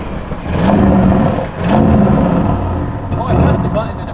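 An Audi RS6 Avant with exhaust cutouts open revs hard in loud, swelling bursts that rise and fall about three times, close and throaty, with a voice talking faintly over it.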